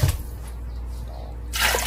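Water is poured into a pot of whole masoor lentils, making a continuous splashing, trickling rush that swells louder near the end, close by and without speech.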